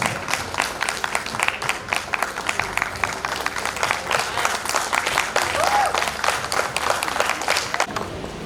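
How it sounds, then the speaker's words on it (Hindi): A large crowd at a poetry gathering and health conference in Ayodhya breaks into loud, sustained applause, with dense rapid clapping that carries on at full strength for the whole stretch and some crowd noise mixed in. "जोरदार तालियां।"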